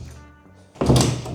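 A loose part on a Chinese-imported excavator's cab door knocks against the frame: a single heavy, close thunk with a clattery rattle after a quiet, tonal lead-in.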